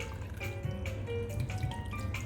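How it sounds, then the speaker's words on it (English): Water pours into a pot over roughly chopped chicken with rock salt, a light steady trickle and drip, fairly close, with no talking. "we're going to just add enough water to cover it"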